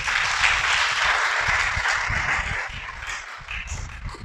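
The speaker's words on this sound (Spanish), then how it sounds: "Dale un aplauso al Creador." Applause from a church congregation during a sermon, a dense, steady patter of many hands that carries on unbroken and fades slightly toward the end.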